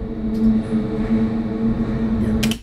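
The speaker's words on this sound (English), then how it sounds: "This was the sound that the elevator made when the doors, I think, closed." Elevator doors closing, heard as a steady, loud low mechanical hum with a droning tone, a faint high tick near the start and a brief bright rattle at the very end.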